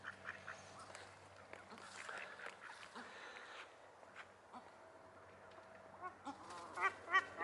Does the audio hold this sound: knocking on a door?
no